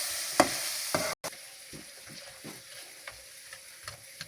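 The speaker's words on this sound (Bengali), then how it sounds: "এখন আমরা ম্যাগি মশলা ঢেলে দেব। সুন্দর করে মিক্সড করে নিব।" Vegetables being stirred with Maggi masala in a pan for noodles: intermittent scraping taps over a soft steady sizzle, with one louder clack near the start and a brief dropout, close and with no talk.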